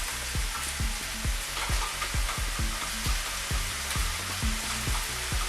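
A vegan stir-fry in Thai coconut curry sauce is stirred around a sizzling pan, with steady frying hiss and a quick run of close scraping clicks from the utensil against the pan.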